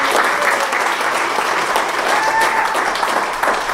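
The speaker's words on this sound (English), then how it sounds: "Everybody give a round of applause." Steady audience applause honoring a retired fire captain at a Corona Fire Department history event, a dense, even wash of clapping from a crowd that holds for the whole stretch without letting up.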